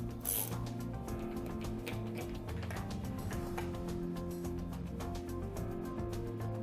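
Wrench clicking and ratcheting on metal while the last diaphragm comes off a Graco Husky 307 pump, a steady run of close, busy mechanical clicks and clanks over a constant low hum.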